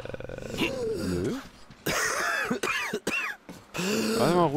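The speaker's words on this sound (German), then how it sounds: "Ah, ich huste." A single person coughs and clears their throat loudly and close up, with rough, voiced bursts and short breaths between them, while playing Metro Exodus in a gas mask.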